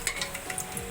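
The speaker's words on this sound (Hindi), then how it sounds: "आप इसमें 2 चम्मच सरसों का तेल ले लें। तेल हमारा गर्म हो गया, हम इसमें डाल देंगे।" Whole spices crackling in hot mustard oil in a pan, a soft continuous sizzle dotted with small pops and bursts, close and fairly quiet, with no voices.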